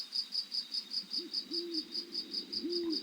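An owl hoots repeatedly, low and soft, over a continuous rhythmic pulsing of crickets, a quiet night-nature layer within a 432 Hz sound-healing music track.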